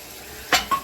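Water poured into a pan of sizzling vegetables (radish, potato, beans and carrot) produces a sudden loud hiss and splash, followed by a second shorter burst of sizzling, close and brief.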